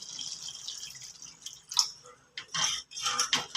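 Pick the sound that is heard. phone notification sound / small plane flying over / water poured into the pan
water poured into the pan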